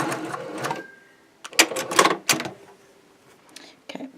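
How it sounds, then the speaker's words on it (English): Short bursts of a sewing machine stitching a quarter-inch seam on a Maple Leaf quilt block, stopping and starting in quick clattering spurts with pauses between, close by. "We're just going to sew 1/4 inch all the way along there."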